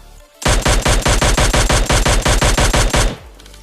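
Rapid sustained SMG fire in PUBG Mobile Lite, a loud close burst of about twenty evenly spaced shots over roughly two and a half seconds that stops abruptly.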